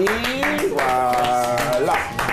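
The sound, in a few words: audience applauding a guest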